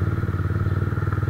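A 170z motorcycle being ridden, its engine chugging in a fast steady pulsing beat at a near, moderate level with light mechanical clatter.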